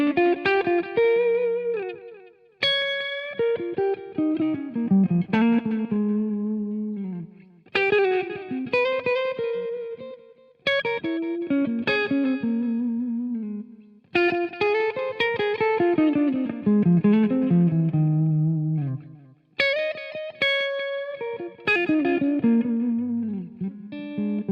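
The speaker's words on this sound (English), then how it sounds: "JT20 has just enough, I would say, to play a clean solo, and it would sound something like this." Clean electric guitar solo through a Marshall JT20 amplifier, a run of melodic single-note phrases with short bends and gaps between lines, played alone with a light effects shimmer.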